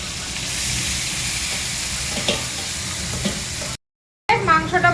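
Meat fries in a pan with cumin, bay leaf and dried chilli, a constant close sizzle with a few stirring knocks, then a brief cut to silence before a louder burst of clatter.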